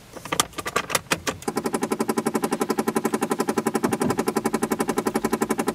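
An Opel Vectra 2.0 DTI 100 hp diesel engine cranks with a few sharp clatters, then catches and settles into a steady, rapid, rhythmic diesel idle close by.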